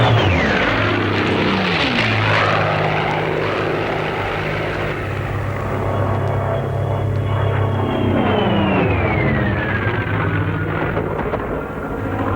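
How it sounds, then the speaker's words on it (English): Mustang fighter planes roar overhead, a loud, sustained propeller-engine drone that swells and shifts pitch as the aircraft pass, with no voices. "Get a load of those Mustangs."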